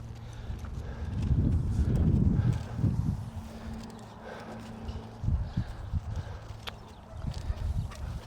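Hoofbeats of a four-year-old gelding, a Smart Little Lena–Shining Spark bred reining horse, working a tight circle in an arena; uneven clip-clop bursts of hooves on soft ground, near and moderately loud, swelling early then scattered footfalls.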